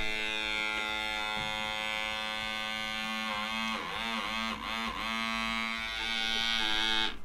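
A homemade motor-driven door alarm buzzes continuously and loudly once the door opens and a string pulls taut, a steady harmonic electric whine with slight wavering midway.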